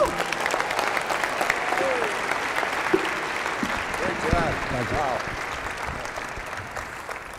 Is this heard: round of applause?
yes